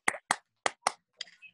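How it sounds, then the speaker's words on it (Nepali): A few sharp, separate hand claps from a church audience thanking a pastor, five or six quick bursts spread over a brief moment with silence between, sparse rather than a full ovation. "आउनुहोस् हामी ठुलो ताली बजाएर उहाँलाई एकपटक पुनः हामी धन्यवाद दिनेछौँ"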